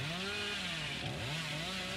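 The Hillbilly's chainsaw in Dead by Daylight revs loudly and close, its engine pitch rising and falling in quick, wavering surges over a steady buzzing roar.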